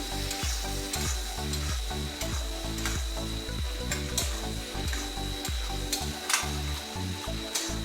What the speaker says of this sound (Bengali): এবার এতে আমরা কুচনো ধনেপাতা দিয়ে দিলাম, এটাকে ভালোভাবে এবার মিশিয়ে নেব।